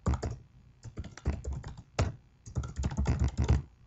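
Rapid typing on a computer keyboard while entering data into a dialog box in MS Word 2007, with clustered bursts of close key clicks separated by brief pauses, no voices.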